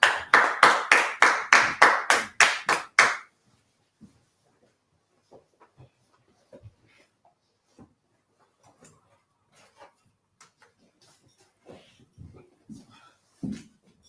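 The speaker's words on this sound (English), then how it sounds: "Clap it up, Baba Shah." A group of students in a law class run by ISUPK claps in a fast, even burst of about a dozen sharp claps lasting a few seconds. Sparse, quiet speech and small sounds follow.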